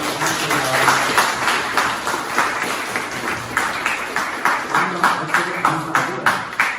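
A church congregation claps to welcome visitors at a first worship service in Gimpo, a steady round of loud applause from many hands filling a room, with a few voices underneath.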